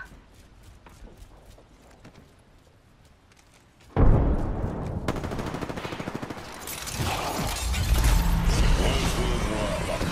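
Gunfire in the Apex Legends video game, a loud burst of rapid shots breaking in suddenly after quieter sounds and going on in dense volleys, with a player's voice in the mix.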